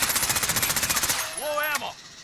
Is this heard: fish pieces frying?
no